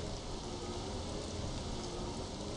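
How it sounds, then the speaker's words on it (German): Steady acid rain falling in the video game Star Wars Jedi Knight: Jedi Academy, a dense continuous hiss of drops on surfaces, moderately loud and unbroken, with no voices. "Ja, der Regen ist wie Säure."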